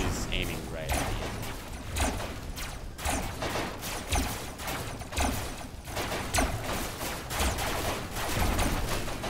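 Robocraft battle gunfire, rapid mechanical bursts and clattering shots repeating in uneven volleys, fairly loud and close, with voices talking over the shooting.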